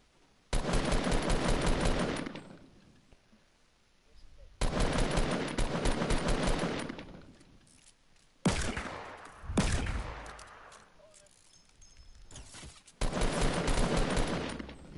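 Bursts of rapid automatic gunfire in a video game come in several long volleys, loud and close, with a few single heavier shots and brief quieter gaps between bursts.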